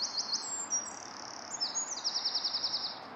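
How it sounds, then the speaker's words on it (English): Small birds in a back garden chirp in quick, high repeated trills and tweets over a soft outdoor hiss, moderately close, with rhythmic runs of notes near the end. "Hear the noise of the birds."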